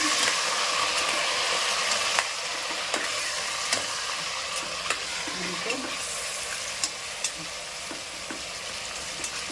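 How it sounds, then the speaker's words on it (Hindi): Chicken pieces fry in hot oil in a pan, giving a steady loud sizzle close by, broken by light clicks and scrapes as the spoon stirs them at irregular intervals. Nobody speaks. "ऑयल में अच्छे से मैंने इसको फ्राई कर ली हूँ"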